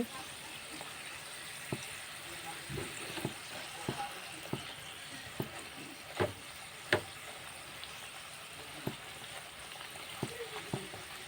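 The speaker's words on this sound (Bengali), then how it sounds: "প্রায় দুই মিনিট হয়ে গেছে আমি সিঙ্গারাগুলো প্রথমবারের জন্য উল্টিয়ে দিচ্ছি" Samosas fry in hot oil with a steady, close sizzle. Occasional clinks and splashes come through as they are flipped.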